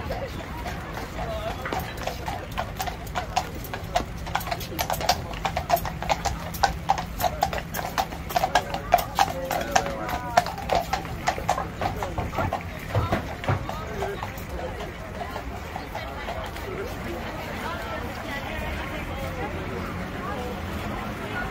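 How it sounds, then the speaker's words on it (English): Hooves of horses pulling a royal carriage clip-clop in a brisk, uneven rhythm on the road at Buckingham Palace, moderately close and loudest in the middle, then fading out as the carriage passes. "horse-drawn royal carriage arrives at Buckingham Palace."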